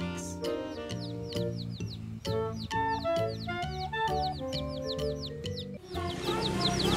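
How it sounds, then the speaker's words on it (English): Young chicks peeping in the grass, a close run of bright, rapid, repeated chirps over a faint background of other calls. "Look, there is so many rainbow chicks in the grass."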